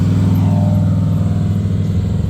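A Lamborghini Huracan Performante engine holds a loud, steady idle-like drone with a fast pulsing texture, close by and alone for a couple of seconds.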